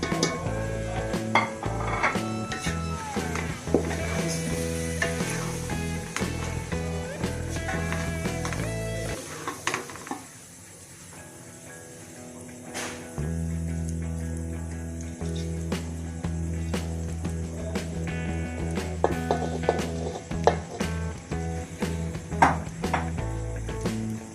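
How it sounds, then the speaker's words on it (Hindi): Cooked rice is tipped into a pan with egg and vegetables and stir-fried, giving repeated clattering scrapes and knocks of a utensil against the pan, with a quieter pause partway through. "अब मैं इसमें चावल शामिल करूँ।"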